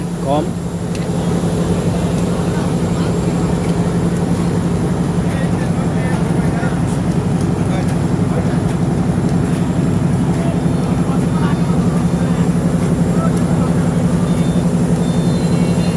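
A steady low engine and machinery drone fills the air on the rooftop of the Sundarban passenger launch docked at Sadarghat river terminal in Old Dhaka, while someone talks throughout.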